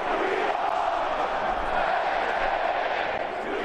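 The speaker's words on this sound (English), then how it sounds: "It's especially loud when cheerleader Ben Malloy gets on the mic and the crowd chants." A huge crowd in Penn State's Beaver Stadium roars and chants, a dense, continuous wall of voices at steady volume.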